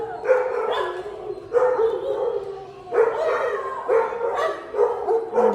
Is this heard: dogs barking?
yes